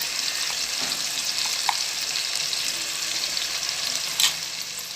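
Ginger paste fries in oil for a village-style mutton curry, a dense, even sizzle close up with a few brief stirring clinks.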